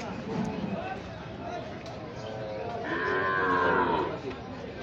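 Calves and cattle at a cattle market in Bamudi, with a long low moo rising near the middle over a busy background of people talking and market noise.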